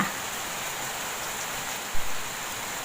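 Heavy, prolonged rain falls over a Thai corn-growing area as a dense, steady hiss that runs unbroken throughout, with one brief low thump near the end.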